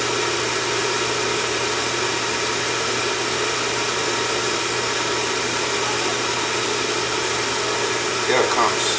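An oil-fired furnace burner, jumped out so it keeps firing, runs with a steady broadband roar and low hum throughout, ending in a brief louder burst near the end.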